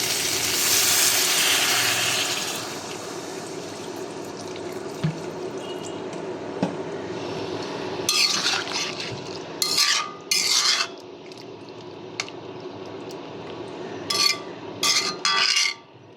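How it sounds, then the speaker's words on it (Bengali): Water goes into fried spices for a Bengali fish curry, starting with a loud splash and pour, then a quieter simmer broken by bursts of stirring and scraping in the pan near the end. "আমি এখন ঝোলের জন্য জল দিয়ে দেবো"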